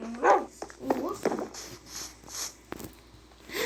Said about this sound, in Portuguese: Ali tem mais um cachorro, deixa eu ver se tem mais osso.